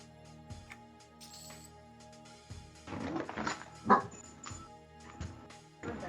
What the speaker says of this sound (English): The dog does not approve.